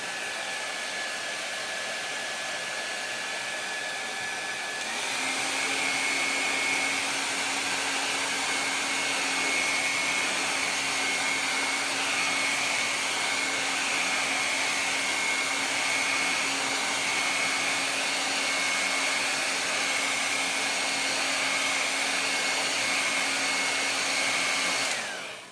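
A hair dryer blows steadily and loudly for the whole stretch, drying chalk paste on a paper craft bunny, its pitch shifting once as the setting changes early on.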